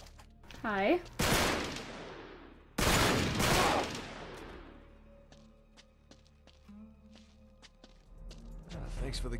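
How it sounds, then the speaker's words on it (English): Gunfire in Uncharted 3: Drake's Deception: two heavy, loud bursts of shots early on, then quieter scattered clicks and taps with footsteps, and another swell of firing at the end, with a brief voice near the start. "the guns are so damn loud"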